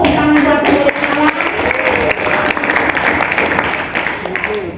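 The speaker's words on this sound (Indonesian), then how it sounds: "Tepuk tangan buat Allah." A church congregation applauds during a sermon, a dense, loud, steady wash of clapping lasting several seconds, with voices mixed in.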